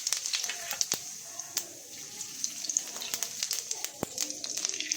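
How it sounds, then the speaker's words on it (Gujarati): Cumin seeds splutter in hot oil for tempering, giving sharp, irregular pops and crackles over a low sizzle, close and fairly loud. "જીરું તતરી જાય"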